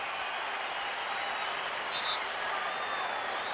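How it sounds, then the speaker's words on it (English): A basketball arena crowd applauds during a 1993 NBA playoff game, Chicago Bulls at Cleveland Cavaliers: a steady, distant wash of clapping and crowd noise with no voices standing out. "the crowd up applauding the aggressive play of Cleveland"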